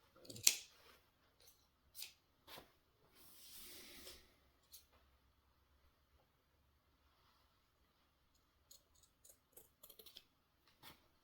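Scissors trimming fabric on a vest, heard as quiet, scattered snips and one brief rustle in an otherwise silent room.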